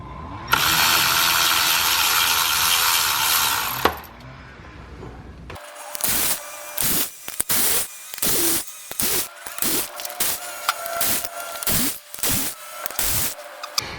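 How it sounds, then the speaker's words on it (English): A hand ratchet with a 1/2 inch socket clicks in repeated short bursts while loosening the differential cover bolts on a Jeep CJ7, close and clear, after a steady mechanical whir at the start. "it's just simply unbolting all the bolts, and that's a 1/2 inch socket"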